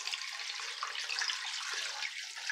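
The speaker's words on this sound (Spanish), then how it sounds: "Lo vamos a cubrir de agua" Water pours steadily into a cooking pot for an Andalusian puchero stew with broth and potato chunks, a continuous bright splashing rush, close and loud, with no talking.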